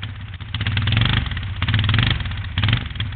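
A Yamaha ATV engine runs roughly after diesel was put in its gasoline tank, a loud, ragged, uneven idle that surges and sags in pulses, close by and with no talk.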